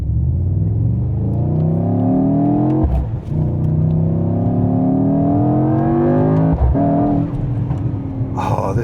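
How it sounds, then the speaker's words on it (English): A 2025 Mercedes-AMG GT 63 S E Performance 4-Door engine revs hard and loud, pitch climbing steadily, dropping briefly at two gear shifts before rising again. "This car just sounds incredible."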